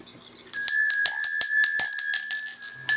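A small decorative bell, the kind hung at a home entrance, starts after a brief quiet and chimes in a quick series of bright strikes whose clear, sustained ring carries on for over two seconds, loud and close.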